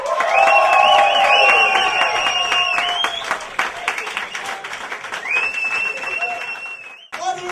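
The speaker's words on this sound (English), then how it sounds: "Let's get the whooping and cheering going" A live comedy show audience whooping, cheering and applauding loudly for a headline act, a dense sustained roar with shrill whistles and whoops on top that eases slightly midway, then swells again.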